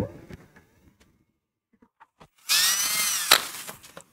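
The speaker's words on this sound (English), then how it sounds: "just drilling out that hole" A power drill bores a hole through wood for a magnetic key holder, a loud steady whine starting at about 2.5 seconds and running to the end after a quiet stretch with a few faint taps.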